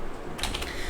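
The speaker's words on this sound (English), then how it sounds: "Okay, so I should type it." Typing on a computer keyboard while setting up Python in Jupyter on Windows: a brief burst of three or four light key clicks over steady background hiss, close and fairly quiet.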